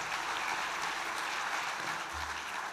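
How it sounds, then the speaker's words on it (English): An audience applauding at a music talk, a steady, dense wash of clapping hands at moderate distance, even throughout with no voices over it. "A big round of applause."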